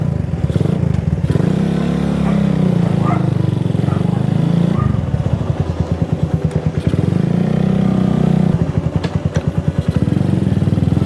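Raider 150 carbureted motorcycle with an aftermarket pipe, revved up twice in loud rising bursts that drop back to a rough, clattering idle, heard up close.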